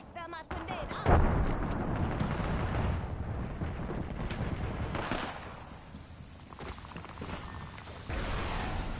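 A grenade bursts in the battle royale shooter Apex Legends with a heavy, close boom, followed by rumbling gunfire and chaotic combat noise while a player talks.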